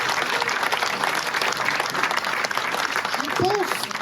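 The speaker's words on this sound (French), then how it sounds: "Thomas Barbazan, vous pouvez l'applaudir." A theatre audience at a stand-up comedy show applauds steadily for Thomas Barbazan, dense clapping filling the room, with a voice briefly heard near the end.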